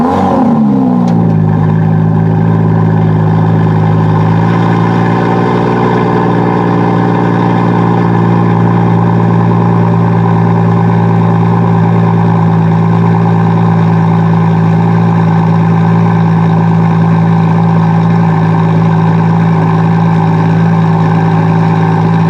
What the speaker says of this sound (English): It's especially impressive when cold starting in Sport Plus mode, as I'll show you next with a quick 30-second clip.